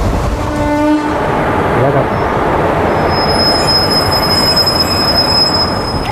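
A train engine arriving rumbles in close by, wheels screeching with a sustained high metallic squeal over the heavy rolling noise.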